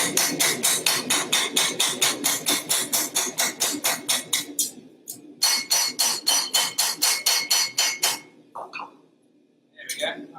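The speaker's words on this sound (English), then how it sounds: "hammering on the edge of the anvil" Copper struck with a hammer on the edge of an anvil, a fast, even run of sharp metallic blows, a short pause, another quick burst, then a few scattered taps, loud and close.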